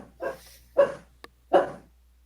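A small dog barking in its sleep: three short, muffled woofs spaced about half a second apart, with a faint click between the last two, close by in a quiet room.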